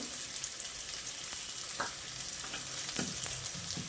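Garlic cloves frying with softened onions in a pan give a steady, close sizzle, with a few soft stirring scrapes breaking through the hiss.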